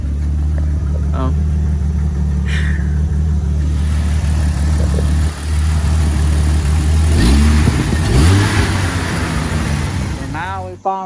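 Car engine running after a hard start, a steady low idle rumble that carries on throughout, with a few brief bursts of other noise partway through.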